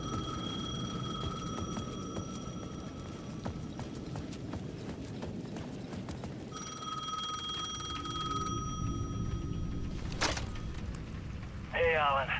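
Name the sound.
payphone ringing in video game Alan Wake 2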